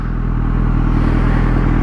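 Motorcycle passing on a quiet town street, a steady loud engine drone close by that lingers throughout without any talk.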